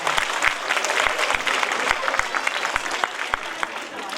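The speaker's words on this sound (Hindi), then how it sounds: "जोरदार तालियां बजाएं" Steady, enthusiastic clapping from an audience at a school annual function, a dense even patter of many hands continuing throughout at moderate loudness.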